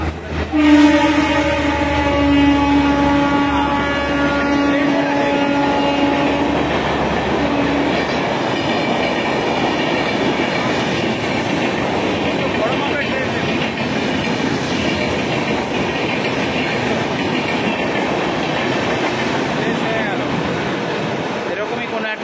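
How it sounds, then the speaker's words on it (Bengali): A train passes Panskura station platform. A loud, sustained horn blast opens, then a long, heavy rumble and clatter of rolling wagons continues close by until the end. "সাইডে কিন্তু একটা ট্রেন যাচ্ছে, আপনাদেরকে দেখিয়ে দিই। একদম দেখুন ট্রেন আসছে আমাদের"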